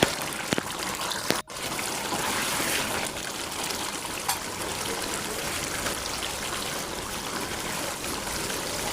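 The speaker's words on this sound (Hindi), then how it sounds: "ये चने का जो बॉयल किए हुए पानी थे वो मैंने डाल दिया।" Boiled chickpea water pours into a pot of spiced chicken chana pulao, a steady close trickle and splash running for several seconds after a brief clatter.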